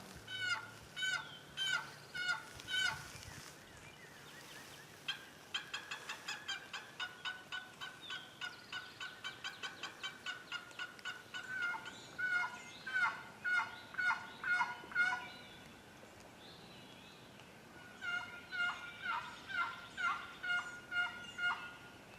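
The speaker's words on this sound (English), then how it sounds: "we had some birds calling from different directions" Wild turkeys call from different directions during a turkey hunt in repeated bursts of rapid gobbling and yelping, moderately distant, with brief pauses between volleys and no talking.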